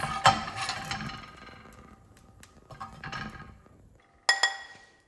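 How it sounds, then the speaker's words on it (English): Metal utensil scraping and clinking against a pan as crispy Brussels sprout bits are loosened, a cluster of scrapes up front, quieter rattles, then a sharp clink near the end. "make sure you kind of scrape them off of the pan and put them in"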